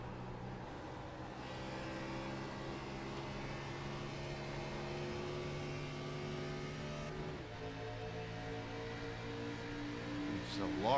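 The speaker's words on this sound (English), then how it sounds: "Even downshifting in the tunnel." A race car engine at Pocono drones steadily in a tunnel, then drops pitch in a downshift near the middle and revs back up toward the end, heard at a distance and fairly faint.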